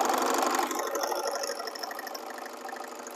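Sewing machine running steadily as it stitches along the edge of a long knit neckband, a continuous close mechanical whir with fine rapid rhythm that eases slightly in loudness toward the end.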